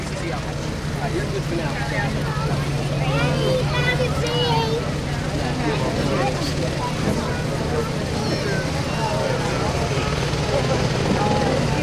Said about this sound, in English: As our UH-60 departs out for the west.